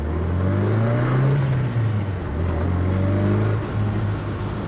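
A loud 1975 Toyota Corolla KE35 engine runs with a rough, rumbling low tone that rises and falls slightly as it idles and revs, close by, with no talking.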